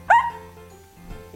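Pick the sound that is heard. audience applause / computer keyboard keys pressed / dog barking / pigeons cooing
dog barking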